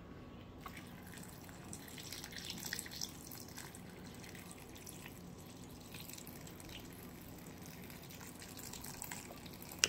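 Water dripping slowly through a water filter in a kitchen, faint scattered drips over a quiet hum of room noise, with a sharper drop near the end.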